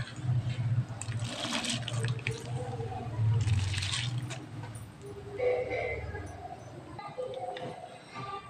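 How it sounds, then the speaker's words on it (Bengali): Soaked, washed rice and lentils tip into a pot of already boiling spiced water for vegetarian khichuri, giving a close, sustained watery rush and splashing with bubbling, then settling into quieter simmering and clinks. "তো চাল আর ডালটা আমি ঢেলে দিয়েছি"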